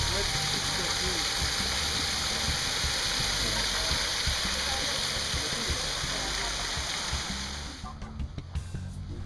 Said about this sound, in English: We explore the formal gardens with its fountains and waterfall.